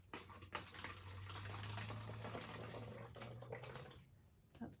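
Vinegar poured through a funnel into a small opening, a steady close trickle and gush of liquid lasting several seconds, with a low hum underneath.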